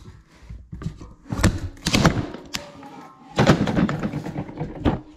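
Guillotine cutter chopping a Pergo laminate flooring plank during floor installation, with two loud sharp thunking cuts and clattering handling noises in between, close up.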